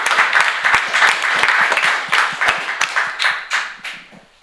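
An audience claps at the end of a presentation, a dense burst of many hands applauding at close range that holds steady, then thins out and fades away over the last second.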